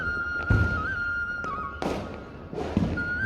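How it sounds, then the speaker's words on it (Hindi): Diwali firecrackers go off behind a house, three or four sharp bangs spaced about a second apart, fairly close, over a steady whistling tone. "ये तो हमारे घर के पीछे पटाखे फोड़ रहे हैं"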